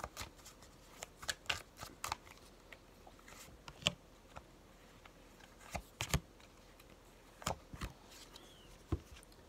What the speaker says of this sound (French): Je vais tirer 3 cartes de mon oracle des papillons.